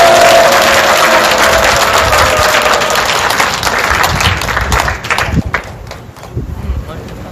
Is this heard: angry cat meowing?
no